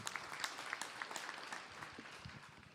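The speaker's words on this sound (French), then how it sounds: "Je vous demande de l'applaudir." Faint applause from an audience at a commemoration evening, scattered hand claps heard at a distance with a low room murmur, fading slightly toward the end.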